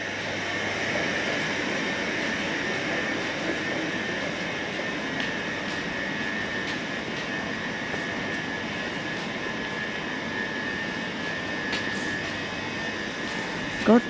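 A Southeastern train bound for Charing Cross via Dover sits at Ramsgate station, giving a steady engine drone and rumble with faint higher whines, ending in a brief sharp knock.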